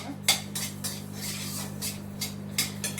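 A utensil stirs white sesame seeds roasting in a pan, giving light clinks and scrapes against the metal in a loose rhythm over a low steady hum.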